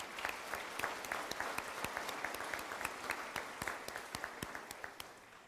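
Steady applause from a crowd at an early college graduation ceremony, many hands clapping at a moderate distance, fairly quiet and continuous throughout.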